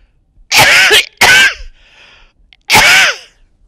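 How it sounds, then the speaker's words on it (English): A person coughs nearby, three sharp, loud bursts in quick succession with short pauses between them, with no other sound. "I got a cough."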